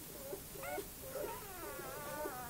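A domestic cat gives several faint, short, wavering meows against a quiet background hiss, with a few soft whining cries near the end.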